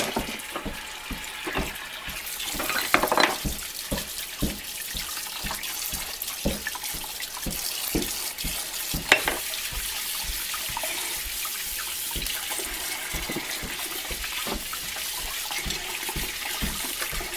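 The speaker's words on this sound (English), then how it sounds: "Now I'm going to wash them in warm water" Warm water runs steadily from a tap while rusty hardware, already soaked in vinegar, is rinsed beneath it, giving a continuous splashing hiss with occasional clinks and louder surges, no talking.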